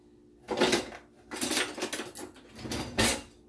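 A spoon and a whisk clattering against a bowl and each other as they are picked up for mixing pound cake batter, three quick metallic bursts, close and fairly quiet.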